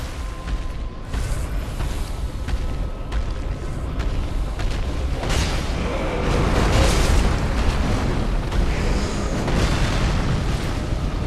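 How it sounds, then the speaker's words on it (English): A giant fire wave attack from a boss in Dark Souls 3, a continuous loud rumbling roar of flames with booming bursts that swells toward the middle and stays dense throughout. "Now he's gonna do a giant fire wave."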